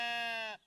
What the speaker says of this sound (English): look at that sheep!